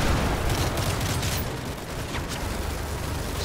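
Gunfire in Call of Duty MW3, a dense burst of rapid shots and booms that fades into a noisy rumbling battle wash, with no talking.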